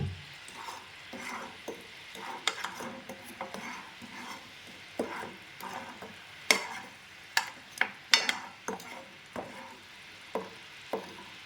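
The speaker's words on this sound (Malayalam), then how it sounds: "നന്നായിട്ടൊന്ന് ഇളക്കി കൊടുക്കാം" Melting jaggery for peanut candy is stirred in a pan, with soft sizzling under irregular scraping and sharp metallic clicks of the spoon against the pan, close and fairly quiet, no voices.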